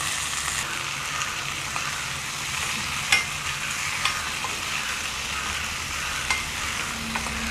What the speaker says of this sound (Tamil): நான் தக்காளி ஃபஸ்ட்டு தாளிக்கிறேன்